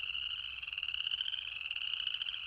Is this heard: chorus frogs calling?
yes